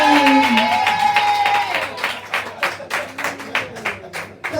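Church congregation clapping in praise of the Lord, a dense burst of applause that thins into scattered, rhythmic claps over a low steady hum, with a few voices calling out.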